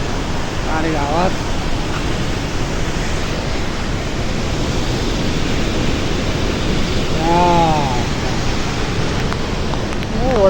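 A dense, constant roar of water pours from the Marsyangdi hydropower dam's open gates, heavy and close throughout, while a person speaks briefly over it twice.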